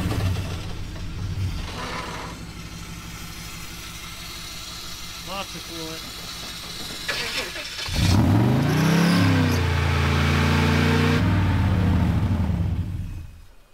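A truck engine runs steadily, then revs and surges with rising and falling pitch while put in drive on the brake during a wrecker rescue, loud and close throughout, with a brief lull before the louder revving.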